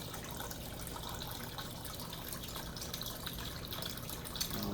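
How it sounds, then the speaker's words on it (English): Clean water pours into a one-gallon pitcher, a steady gushing stream that stays even and continuous throughout. "This is about a gallon pitcher, and so I'll go ahead and fill it up here"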